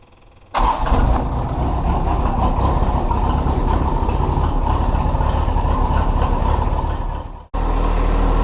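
A John Deere 1025R compact tractor engine cranks and catches, then settles into a loud, steady close-up diesel idle, briefly cut near the end before the running engine resumes.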